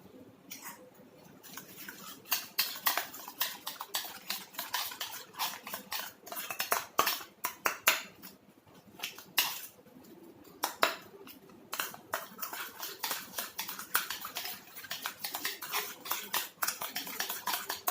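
A spoon stirring and mashing aloe vera gel in a small bowl, giving close, quiet clinks and soft wet scrapes in an irregular, busy rhythm.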